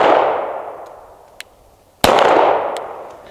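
A CZ P-07 pistol fires two sharp shots, the first with a faint metallic ping downrange, the second a loud crack that rings against a steel plate, each followed by a long echo dying away across the range.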